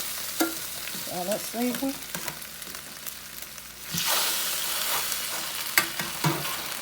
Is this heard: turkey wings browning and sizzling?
yes